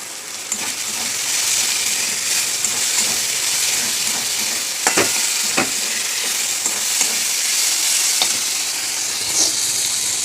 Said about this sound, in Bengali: চিচিঙে ভাজা তো চিনি দিলে ভালো